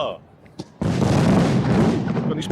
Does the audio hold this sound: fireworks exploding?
yes